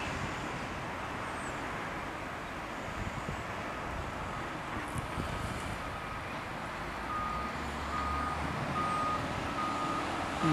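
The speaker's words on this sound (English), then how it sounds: "That forklift is putting that box onto a stack of 1, 2, 3, 4." Forklift at a busy container port reversing: faint, regular warning beeps sit under heavy wind buffeting and a broad wash of distant machinery and truck noise.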